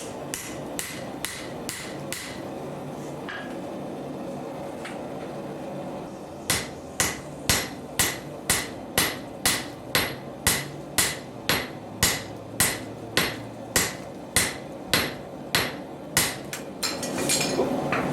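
Steady hammer blows ring out on leaf spring steel, beveling and spreading it while forging an herb chopper: loose strikes at first, then a fast, even run of sharp metallic hits close to the anvil, with no talking.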